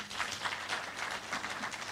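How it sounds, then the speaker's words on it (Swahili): A crowd of the people of Kalau at a political address in Nairobi claps in a steady, dense wash of applause, moderately distant and fairly quiet throughout. "Pigieni makofi watu wa Kalau."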